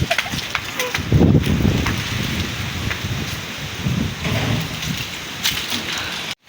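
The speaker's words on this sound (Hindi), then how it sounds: "बारिश हो रही है।" Heavy rain pours down in a steady broadband wash, with a louder gusty surge near the start and brief rustling bursts, close and continuous.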